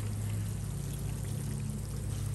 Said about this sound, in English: Let me turn the water on